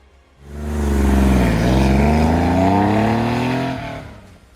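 A Porsche 911's rear-mounted 2-liter air-cooled engine revs up loudly nearby, its tone dipping and then climbing steadily before cutting off.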